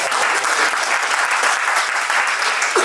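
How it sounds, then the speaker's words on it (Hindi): Steady, dense applause from an audience at an awards gathering fills the whole stretch, loud and even with no break. "इनके लिए एक ताली हो जाए।"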